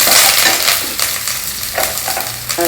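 Slit green chilies and fresh curry leaves stir-frying in a pan, a steady loud sizzle with bursts of crackling and the occasional scrape of stirring, close up and with no talk.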